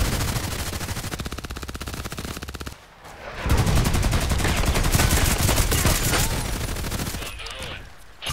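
Rapid automatic Glock 18 fire in the shooter game Contract Wars, dense bursts of shots in two long volleys split by a brief pause, loud and close.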